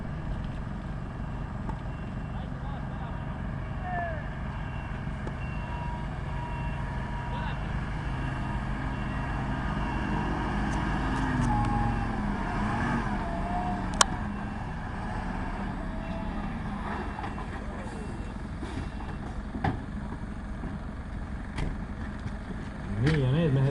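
A fire engine pulls onto the ground at a firefighting competition, its steady low engine rumble continuous and fairly loud, with a few sharp knocks and bangs near the end and voices in the background.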